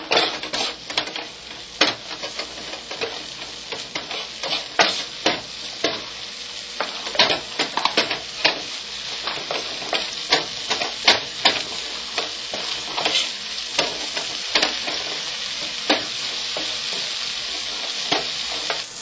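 Cumin seeds crackle and sizzle in a hot pan with a steady frying hiss, broken by frequent sharp pops and occasional stirring scrapes.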